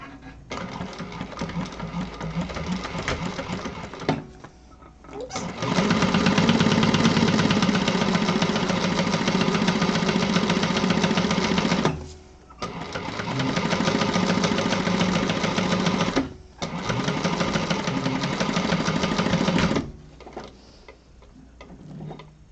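A sewing machine runs a quarter-inch seam through fabric in long, close, loud stretches of rapid ticking stitches, broken by brief pauses where the motor stops and restarts, with no talking.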